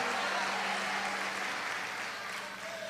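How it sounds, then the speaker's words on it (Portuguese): Church congregation applauding the Lord during a Portuguese-language service: a sustained, fairly soft and diffuse wash of clapping that fades slightly toward the end. "Você consegue aplaudir ao Senhor pela sua palavra agora?"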